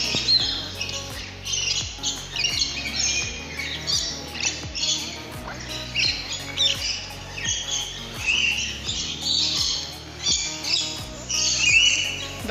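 Many birds squawk and chirp inside an aviary at Ramoji Film City, with loud, overlapping high-pitched calls repeating continuously close by and a faint low hum beneath.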